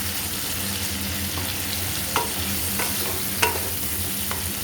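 Prawns frying with taro leaves in a pan, stirred steadily over a constant oil sizzle with a few sharp scrapes of the spoon, close and fairly loud.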